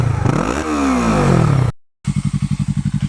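A Yamaha R3 motorcycle engine revs loudly and close, its pitch sweeping up and down before a brief cut, then settles into a steady pulsing idle.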